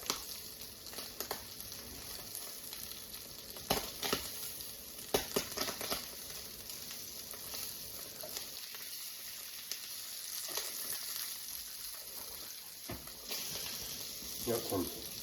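Sausage links and scrambled eggs frying for a camp breakfast, a continuous close sizzle with occasional scrapes and clatter of stirring, while someone talks over it.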